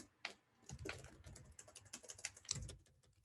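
Typing on a computer keyboard: irregular bursts of clicking keystrokes, close and fairly quiet, with no talk.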